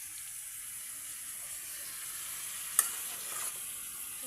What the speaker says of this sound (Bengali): আর একটু মাছ ভাজতে দিয়েছি।